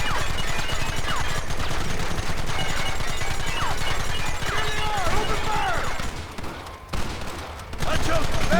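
Sustained gunfire in the Red Dead Redemption video game, dense overlapping shots forming a continuous fusillade with a brief lull near the end, while voices speak over the battle.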